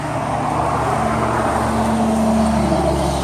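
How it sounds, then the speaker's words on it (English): Road traffic passing by a garden of superhot pepper plants, a steady loud roar of car and truck engines with no break. "Excuse the traffic."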